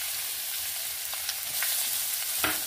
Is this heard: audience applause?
no